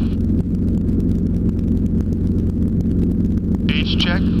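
A helicopter makes a slow pedal turn on the ground before a traffic-pattern takeoff, producing a continuous loud engine and rotor drone with a steady low throb. Brief radio-like chirps come near the end.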